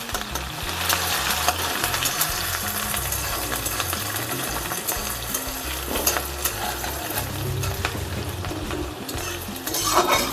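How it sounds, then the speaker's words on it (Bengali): Chopped onion, garlic and green chilli fry in a pan for a Punjabi kadhi pakora curry, giving a continuous close sizzle with repeated stirring scrapes and clinks of a spoon against the pan, and a low hum beneath. "কুচনো পেঁয়াজ, রসুন আর কাঁচা লঙ্কা দিয়ে দিচ্ছি। ভালো করে ভেজে নেব।"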